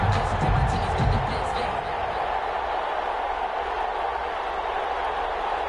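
A steady, broad roar from a stadium crowd in a Madden NFL video game before a Ravens versus Raiders kickoff, constant and fairly loud, with a few low thumps early on and commentary underneath.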